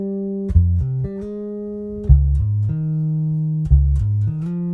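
Electric guitar through a SpectraDrive pedal with a subtle fuzz, playing sustained single notes and short phrases, each long note ringing out clearly with a slight gritty edge, alone without talk.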